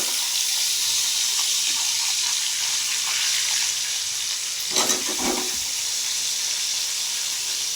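Potatoes frying in a wok with bay leaf, cumin and ginger, a continuous close hissing sizzle with a short burst of louder spattering partway through, no talking.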